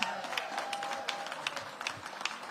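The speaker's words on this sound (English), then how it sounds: "let's give Max a big round of applause" A crowd at a back-to-school event in Washington, D.C. claps steadily, with scattered individual claps standing out over a soft, continuous patter at moderate distance.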